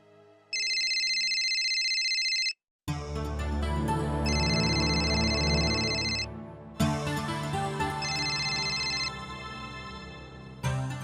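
A phone ringtone plays in repeating electronic bursts over a loud musical backdrop, with short gaps between rings.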